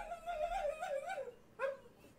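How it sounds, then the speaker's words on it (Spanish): A dog whimpers in a long, wavering high whine, then gives one shorter whimper after a brief pause; close and fairly soft. "Qué lindo perro, bro."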